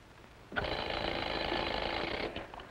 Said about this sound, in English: our phone is working perfectly. Can't you hear it ring?